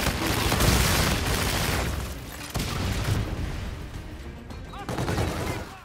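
Gunfire in the shooter Infinite Warfare: bursts of rapid shots and booming blasts in waves, fairly loud and close, with faint voices at times.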